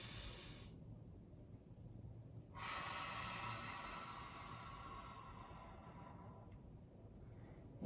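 Slow, deep breaths drawn in and let out during a seated leg stretch, a soft close airy hiss that swells and fades in long cycles over a faint room rumble, with no talking.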